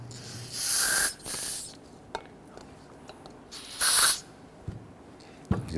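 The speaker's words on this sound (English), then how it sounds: "we're now going to spray a little bit of solvent inside here." Solvent sprays from an aerosol can into the ports of a Nissan Frontier brake caliper in two close, hissing bursts, each lasting about a second, with a later short burst. Light clicks and handling noises fill the gaps.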